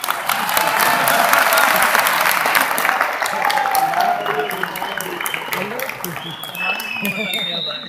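Audience applause, dense and loud at first, then thinning out while a voice speaks over the tail of the clapping.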